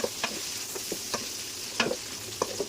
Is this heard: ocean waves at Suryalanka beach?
no